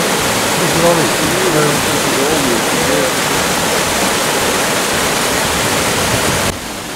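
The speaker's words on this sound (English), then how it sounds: "Nice to hear the water running." Running water rushes steadily throughout, a dense close-up babble of a stream, with faint tonal sounds briefly rising above it early on.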